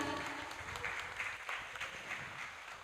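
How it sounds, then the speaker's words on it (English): Applause for a professor at a hybrid multidisciplinary university conference, a sustained wash of clapping from the audience, fairly quiet and roomy, holding steady for a few seconds with no speech. "give applause to Professor Jonathan"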